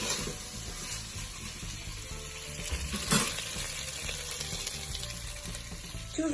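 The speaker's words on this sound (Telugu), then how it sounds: "చూసారు కదా, ఆలుగడ్డ చాలా బాగా ఫ్రై అయిపోయింది." Potatoes fry in a pan with ghee, bay leaf and cloves, giving a steady, close sizzle throughout with faint stirring scrapes and one brief louder clatter midway.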